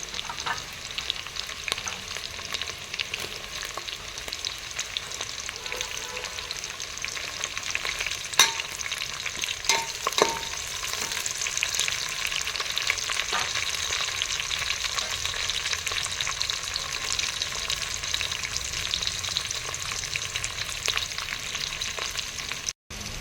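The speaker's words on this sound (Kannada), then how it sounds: "ಚೆನ್ನಾಗಿ ಫ್ರೈ ಆಗುತ್ತೆ ಇದು ಬ್ರೌನ್ ಕಲರ್ ಬರಬೇಕು ಅಲ್ಲಿವರೆಗೂ ಫ್ರೈ ಮಾಡ್ಕೋಬೇಕು" Onions and green chillies frying in oil for a village-style chicken biryani, a steady broad sizzle running without a break, with occasional sharper clicks of stirring and no voices.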